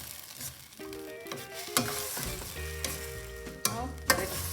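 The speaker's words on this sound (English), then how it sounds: "Just rinse the blender thing, whatever is there, and then pour in that water." Water poured into a hot pan of tomato chutney sets off a steady, close sizzle and frying crackle, with a few sharper splashes and clinks of stirring along the way.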